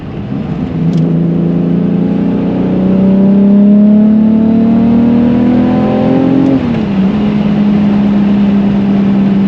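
A supercharged VR6 engine in a Volkswagen Corrado revs loudly and close up, its pitch climbing steadily with a supercharger whine, then dropping sharply as the throttle lifts before settling into a steady drone. No voices are heard.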